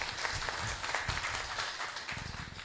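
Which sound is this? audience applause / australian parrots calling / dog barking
audience applause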